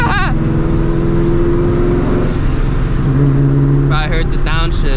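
A loud modified, supercharged 2V Mustang GT engine idles and revs with a deep, rumbling exhaust note, close by, while people talk briefly over it.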